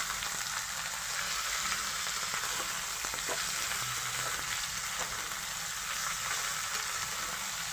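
Chicken pieces frying with salt in a pan for chicken kosha, a steady close sizzle with occasional faint stirring clicks throughout, no talk.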